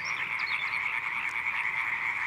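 A tree frog calls through the night in a flooded forest of the Dutch delta, a dense, continuous trilling chorus that stays loud and close without a pause.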